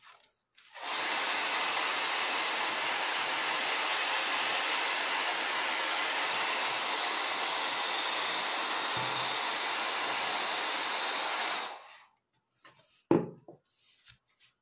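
A hair dryer blows steadily at close range for about eleven seconds while drying stencil paint on a country primitive painting, then cuts off, followed by a couple of faint handling knocks.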